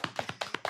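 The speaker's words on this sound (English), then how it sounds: "our friend Gary. Clap it up." Six sharp, separate claps at a brisk, even pace, close and fairly quiet, welcoming a guest on a talk show.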